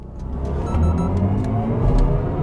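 A 2022 BMW i4 M50 Gran Coupe electric car accelerates at full throttle in Sport Boost, a loud, steady, rising synthetic drive hum with a low rumble heard from inside the cabin.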